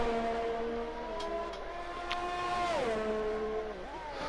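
A McLaren race car engine in a racing video game at the Canada round, a faint tonal whine that holds steady, then drops in pitch as it downshifts and climbs again, with no talk over it.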